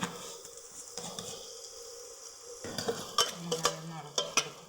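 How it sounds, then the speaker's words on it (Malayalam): Onions wilting with salt in a pan for an egg masala curry: quiet low bubbling at first, then a livelier sizzle with metal spoon clinks against the pan in the second half, no speech. "ഉപ്പ് ഇട്ടിട്ടാണ് നമ്മൾ ഉള്ളി വാട്ടിയത് ഉപ്പിട്ടാൽ ഉള്ളി വേഗം വാടും"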